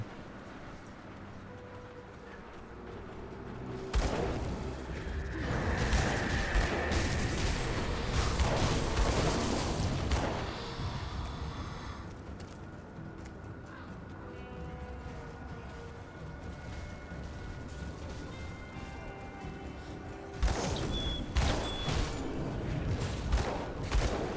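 Repeated heavy booms from a summoned mortar firing in the action role-playing game Grim Dawn, with thudding blasts in bursts over a busy game soundscape of clattering combat effects.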